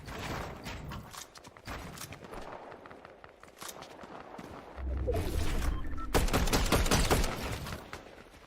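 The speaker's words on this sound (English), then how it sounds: "Good shots from shotgun here." Shotgun blasts in a Fortnite trios Battle Royale match, several sharp bursts with the loudest run near the end, under a busy game soundscape with commentary.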